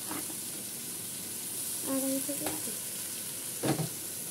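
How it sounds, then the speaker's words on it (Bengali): Beef with ginger paste sizzles steadily in a pot, a constant frying hiss with a few brief stirring scrapes and knocks of a spoon, close by. "তারপরে এটা নেড়ে চেড়ে আমার একটু কষানো হয়ে গেলে ভালো করে কষিয়ে নেব"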